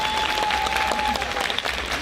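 Dense applause from a Comic Con Ukraine 2021 audience filling an indoor panel hall, steady and loud throughout with a faint tonal whine above it and no speech.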